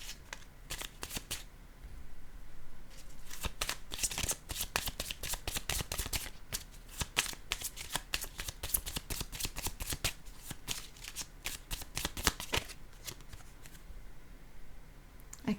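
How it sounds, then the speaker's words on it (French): Playing cards shuffled for a card reading, a long stretch of rapid, close riffling and flicking that comes in dense bursts with brief pauses, quiet and steady throughout. "Je vais déposer une autre carte pour voir si ça change."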